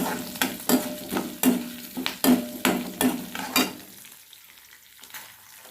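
Green chillies and chopped ginger sautéing in a pan for gooseberry chutney, with a steady sizzle broken by about eight sharp, rhythmic stirring scrapes that stop, leaving a quieter sizzle at the end.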